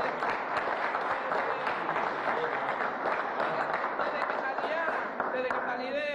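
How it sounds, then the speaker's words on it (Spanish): Applause from an audience for Venezuelan athlete Yulimar Rojas, Rio 2016 silver medalist, at a meeting with Nicolás Maduro, a fairly faint crowd clapping wash with voices mixed in and some sharper transients. "Un aplauso, vale."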